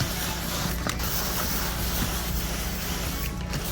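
Softwash solution sprayed across a 2800 square foot tile roof, a steady continuous hiss of spray that holds at an even level throughout, close and alone with no talking.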